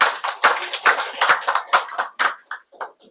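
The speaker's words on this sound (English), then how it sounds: "Let's show a round of applause," A small group clapping for a chess coach's welcome, a few hands giving loud close claps in a loose rhythm that thin out and trail off after about three seconds.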